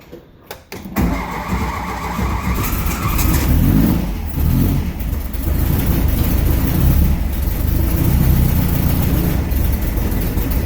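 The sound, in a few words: rebuilt engine running with higher compression, lumpy idle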